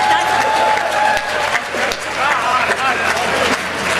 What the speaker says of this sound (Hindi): एक बार जोरदार तालियां बजाएं आप लोग।